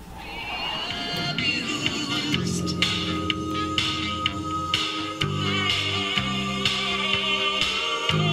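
A bass guitar plays the pre-chorus of a song, moving between sustained low notes in a steady, even line. It is heard alone and fairly loud, with no talking.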